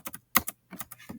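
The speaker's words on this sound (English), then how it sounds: "if I can type" Quick burst of computer keyboard typing, several crisp close key clicks in an uneven rhythm over about a second.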